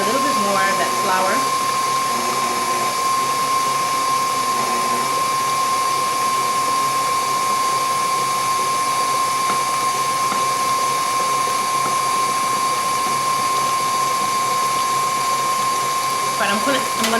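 An electric mixer runs steadily, whirring through cake batter made from scratch for a pineapple upside-down cake; the motor hum holds constant and loud throughout with a few light clinks of the beaters against the bowl.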